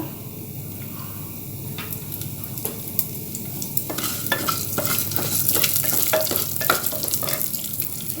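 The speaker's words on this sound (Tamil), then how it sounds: "இதே பாத்திரத்தில் வந்து நான் பா பாசி பருப்புக்குள்ளே அதை போட்டு வறுக்க போகிறேன்" Moong dal being dry-roasted and stirred in a pan for akkaravadisal, a steady sizzling crackle with scraping stirring strokes that grow busier and louder partway through, no talking.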